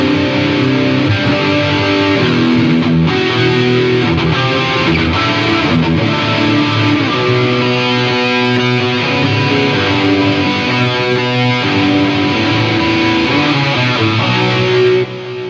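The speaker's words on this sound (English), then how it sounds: "You add those 3 things: distortion, delay, chorusing" Sustained electric guitar chords drenched in distortion with echoing delay and a shimmering chorus wash, loud and continuous, no voices.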